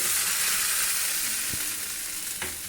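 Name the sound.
hot cumin and asafoetida tempering sizzling into chutney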